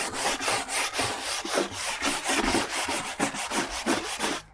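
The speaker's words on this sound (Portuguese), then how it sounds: "a telha abre um pouquinho o poro da madeira" An old, dirty wooden board is rubbed with a roof tile to open the grain, giving rapid, rhythmic rasping strokes, a dozen or more back-and-forth scrapes, close and loud with no talking.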